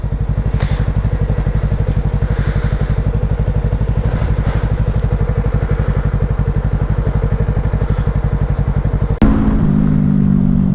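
A motorcycle rides in the evening, its engine thumping in a fast, even rhythm close by. Near the end the tone shifts with a sudden change in the engine and wind noise.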